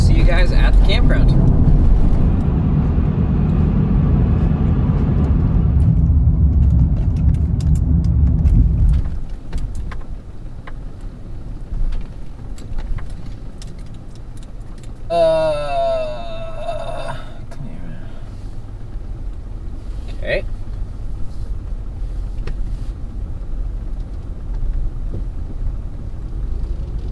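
Honda Pilot driving toward a campground: a steady low road rumble at first that eases after several seconds into quieter rolling and cabin noise, with a brief electronic chime partway through.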